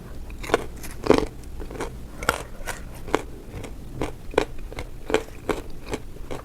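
Crunchy beets bitten and chewed up close, a run of about eight sharp, crisp crunches at a steady, irregular pace with quiet mouth sounds between, and no talking.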